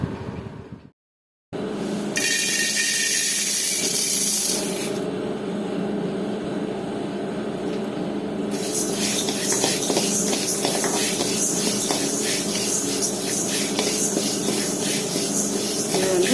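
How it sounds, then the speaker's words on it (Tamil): Lentils and spices dry roast without oil in a pan for idli podi, a steady close hiss and shuffling rattle that carries on with brief breaks. "ஸோ இது எல்லாமே நம்ம ஆயில் இல்லாமல் ட்ரையாக வறுக்கணும்"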